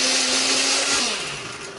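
An electric blender grinds spice paste with added water, loud and close, with a steady whir whose pitch shifts and drops as the motor winds down near the end.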